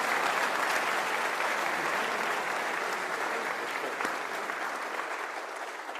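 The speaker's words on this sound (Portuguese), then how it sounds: "uma justa salva de palmas." Audience applause at a symposium, a sustained round of clapping from a seated crowd, steady and moderately loud before gradually tapering off.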